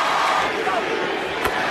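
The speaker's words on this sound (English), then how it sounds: "Now the crowd chanting MVP as Wade chooses free throws" Basketball arena crowd during a Heat game at the Magic in 2006 chanting MVP for Dwyane Wade at the free throw line, a dense, steady roar of many voices filling the hall.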